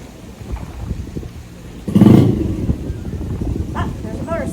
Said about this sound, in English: Ah, there's a motorcycle.